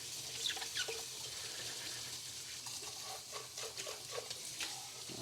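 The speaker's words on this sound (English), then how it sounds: "I'm gonna clean this sports cup" Water running from a sink tap while a plastic sports cup is rinsed, a soft steady splashing stream with light clinks and handling noises, fairly quiet and close.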